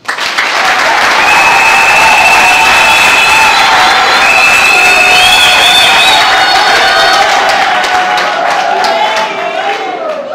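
Sustained loud applause from a large crowd at a political convention gathering, continuous clapping with a few tonal sounds and cheers rising above it throughout.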